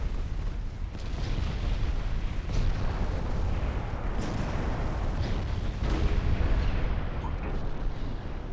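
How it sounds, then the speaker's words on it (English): Heavy 15-inch naval guns fire repeatedly in a video game naval battle, a dense, continuous barrage of deep booms and rumbling blasts with sharper reports at intervals, loud and sustained throughout with no talking. "firing a 15-inch gun at that range is a war crime"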